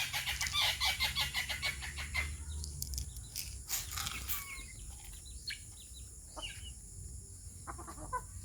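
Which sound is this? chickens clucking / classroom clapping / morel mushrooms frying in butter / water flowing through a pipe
chickens clucking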